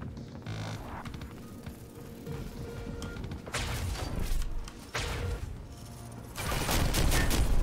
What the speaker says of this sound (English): Damn burst fire.